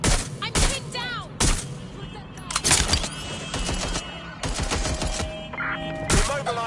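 Rapid bursts of gunfire from the video game Watch Dogs, loud and close, with sharp repeated shots and fusillades scattered through a busy game soundscape of engines and effects.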